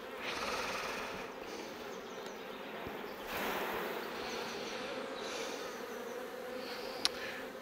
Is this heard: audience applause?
no